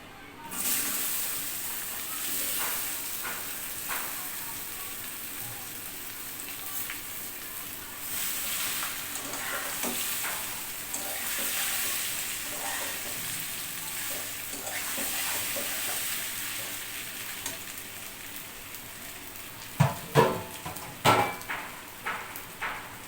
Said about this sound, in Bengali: তেলটা গরম হয়ে গেছে এখন হচ্ছে আমি আমগুলা দিয়ে দিব